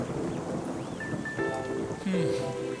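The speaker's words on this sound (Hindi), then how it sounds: "बिजली कड़क रही है, बारिश होने वाली है" Steady rain pours and a low thunder rumble rolls through, with music and soft tonal sounds layered over the storm.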